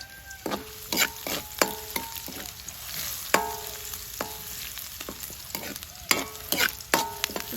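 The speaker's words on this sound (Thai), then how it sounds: "คั่วกระเทียมเอาคั่วหอมแดงสักพักหนึ่งก็จะเอาพริก กับเอ่อ ตะไคร้ลงไปเลยนะคะ" Garlic, shallots, chili and lemongrass stir-fried in a pan: continuous sizzling broken by frequent sharp spatula scrapes and clinks against the pan, close and alone.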